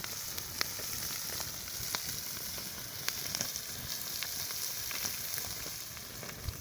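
Fish frying in hot oil outdoors over an open fire, giving a steady continuous sizzle with scattered crackles and pops, fairly close and alone with no talk.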